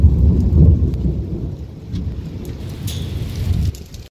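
A heavy thunderstorm with loud, rolling thunder rumbling low and long over a dense, steady hiss of rain. No voices are heard.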